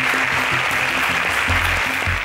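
Applause after a contestant's elimination on an agricultural science quiz show, a steady dense clapping wash with a low musical bed of tones running beneath it throughout.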